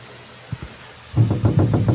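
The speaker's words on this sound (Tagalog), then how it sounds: "Kumakatok guys." Knocking on a door in the horror video game The Boiled One: two faint taps, then after a pause a louder run of five or six evenly spaced knocks, close and alone without speech.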